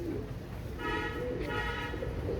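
Ali Wale pigeons of an original bloodline cooing softly in a loft, a couple of low, faint calls over a dull background hum.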